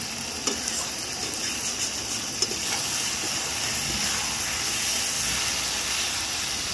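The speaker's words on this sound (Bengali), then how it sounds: "মশলাটা ভাজা হয়ে যাচ্ছে," Spice masala with soybean chunks fries in oil in a steady, close hiss of sizzling, with occasional stirring clicks and scrapes and no talking.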